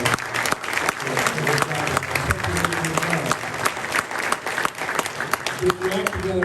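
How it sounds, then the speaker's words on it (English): An audience at a Hawkins County mayoral candidate forum applauds the candidates, sustained clapping with cheers and voices mixed in, fairly loud and continuous for several seconds. "Let's give our candidates for mayor a big round of applause."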